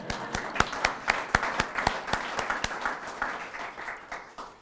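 A crowd applauds steadily at a Pittsburg State University service reception, many hands clapping at once with sharp individual claps standing out, moderately loud and continuous before tapering off.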